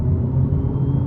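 A 2025 Hyundai Elantra N floored at full throttle in third gear gives a loud, steady, deep engine rumble that fills the whole short stretch without a break.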